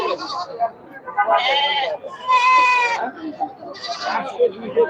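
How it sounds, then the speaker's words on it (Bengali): Black Bengal goats at a busy weekly goat market bleat in several loud, wavering calls close by, with people talking underneath between the cries. "সবগুলাই ব্ল্যাক বেঙ্গল জাতের ছাগল"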